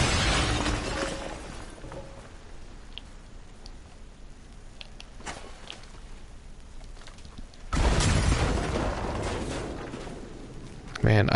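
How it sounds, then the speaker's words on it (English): Dynamite blasts in Red Dead, with a sharp shattering explosion at the start and another loud burst later, separated by a quieter stretch of faint crackles and distant pops. "the explosions, the dynamite sounds a lot louder today"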